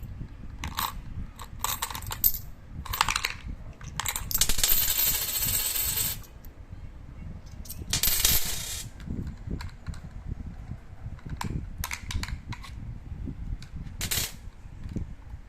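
Coins clatter and drop into a SpongeBob coin eater toy bank, with repeated metallic clinks, bursts of jingling and mechanical chewing rattles, close and loud, without talking.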